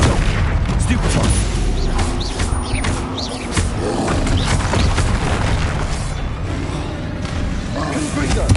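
Spell effects from the Hogwarts Legacy video game, a dense run of booming blasts and crackling magical bursts layered over a continuous loud game soundscape, with a voice calling out spell names throughout.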